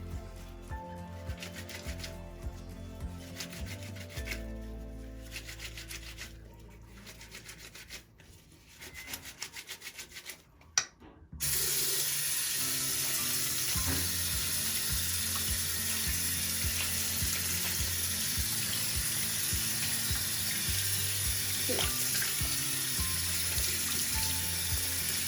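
A non-medical fabric mask hand-washed at home with strong soap and water: soft wet rubbing and squelching at first, then a sink tap runs and sends a loud, continuous stream of water that lasts to the end.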